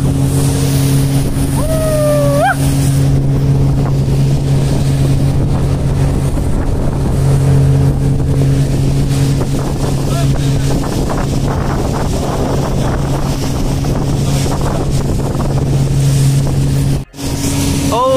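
Motorboat crossing a lake near Shillong, Meghalaya: a steady, loud engine drone and rushing water under heavy wind buffeting on the microphone, continuous throughout.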